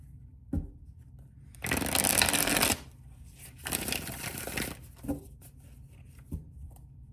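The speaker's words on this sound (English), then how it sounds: "These decks shuffle really nice." A tarot card deck riffled and shuffled by hand, two long loud bursts of crisp card flutter with softer taps and single snaps between them, close and alone with no talk.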